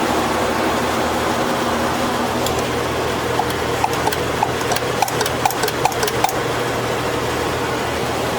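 A Chevy C10 engine runs unevenly with a flooding carburetor, a steady rough idle drone with irregular sharp clicks and taps over it, heard close with no talking.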